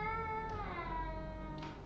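Cat meow sound effect played during a Sunday church service: a single drawn-out meow, fairly faint, heard alone without speech.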